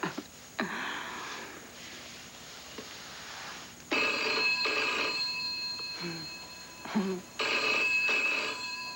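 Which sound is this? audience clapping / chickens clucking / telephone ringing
telephone ringing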